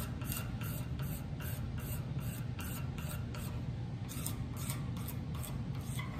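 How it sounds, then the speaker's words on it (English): A razor blade scrapes grime off a metal auto body shaping hammer in about a dozen steady, rhythmic strokes, each a close, harsh rasp, with no talking over it. "use this razor blade to scrape most of this crap off"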